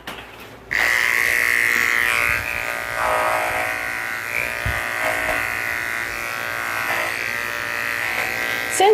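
Electric grooming clippers on a mixed breed dog that can't stand up, cutting still slightly damp hair with a steady loud motor whine that starts abruptly and runs on with small shifts in pitch as the blade moves through the coat.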